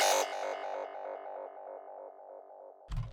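A psytrance filler synth preset called Foreman Slushies, built in Vital, plays a bright, buzzy sustained tone that wobbles rhythmically and slowly fades, then cuts off into a short noisy burst at the end.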